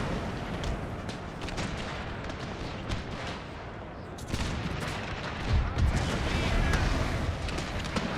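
Cannon artillery in a Total War battle set in the Thirty Years' War, with dense crackling volleys and booming shots mixed with battle noise, a louder burst in the second half, and someone talking over it.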